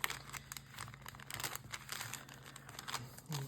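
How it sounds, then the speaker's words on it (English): Paper bag being folded for a journal: a close, steady run of crisp crinkling and rustling paper, with small irregular bursts throughout and no talk. "You're going to fold it again."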